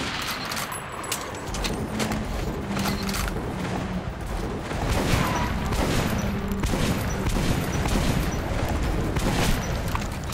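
Sustained rifle gunfire in the post-apocalyptic shooter Metro: Last Light, dense rapid bursts running the whole stretch, loud and close, growing heavier midway with booming impacts.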